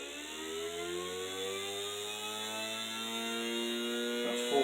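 A 3D-printed four-magnet sensorless brushless DC motor runs at full speed on low batteries, giving a steady, high-pitched electric whine with stacked harmonic tones that climb slightly, close and constant, with a brief click at the end.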